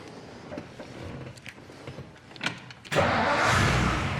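A 1957 Ford Fairlane with overdrive cranks briefly with a few quiet clicks and whirs, then fires and catches into a loud, steady running engine close by.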